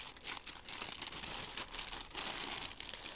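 A plastic bag from a parcel ordered from a Chinese website crinkles continuously close by as it is handled, a dense rustling with no voices.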